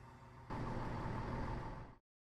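A Class 170 diesel multiple unit arrives in Train Simulator 2016 with a steady, loud rumble of engine and running noise that swells abruptly after a moment, holds evenly, then cuts off.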